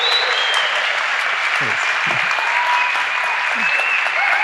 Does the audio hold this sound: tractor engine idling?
no